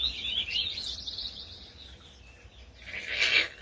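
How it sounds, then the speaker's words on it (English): Small birds chirp in brief, fairly quiet bursts, with a louder cluster of calls near the end and no voices present. "The little birds are so cute."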